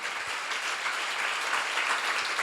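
A church congregation applauding during a Korean sermon seminar, steady dense clapping filling the room throughout at moderate level, with no voices over it.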